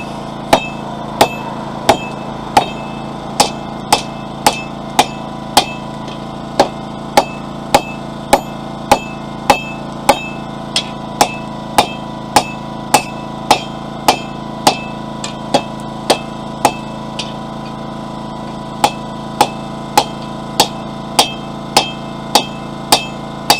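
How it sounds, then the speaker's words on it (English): Hot steel struck with a hammer while forging a fire poker, drawing the bar down to handle length: a long, steady series of sharp, ringing metallic blows at roughly two per second, close and loud, with brief pauses. "I'm going to have to hammer all the way down here until I get to the length of the handle that I want."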